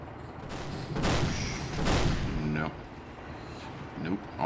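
Panther tank cannon fire in the tank battle game Battle Supremacy: two heavy booming shots about a second apart, each with a rumbling tail, under a low engine drone.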